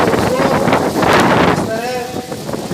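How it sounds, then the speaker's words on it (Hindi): Wind gusting across an outdoor political rally, a steady broadband roar buffeting the microphone throughout, with a crowd and voices underneath. "जैसे ये हवा चल रही है बढ़िया वाली"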